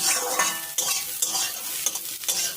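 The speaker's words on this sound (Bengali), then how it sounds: "ফুলকপিটা এখন ভালো করে ভেজে নেব" Cauliflower frying in hot oil in a wok for a vegetarian samosa filling, a steady close sizzle with repeated scraping stirs and metallic clinks, no voices.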